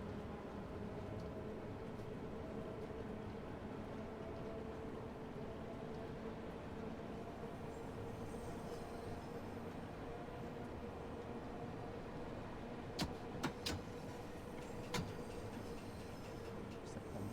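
A passenger train in Train Sim World 2 runs through tunnels toward Marylebone, braking slightly uphill: a steady, loud low rumble of wheels and motor, with a few sharp metallic clicks and squeals near the end.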